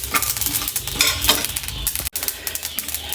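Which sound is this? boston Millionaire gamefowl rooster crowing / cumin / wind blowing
cumin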